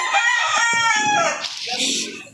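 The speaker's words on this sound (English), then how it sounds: "Chickens." Chickens cluck and crow in the Minecraft video game, a loud, close, continuous burst of fowl sounds lasting a couple of seconds with no talking.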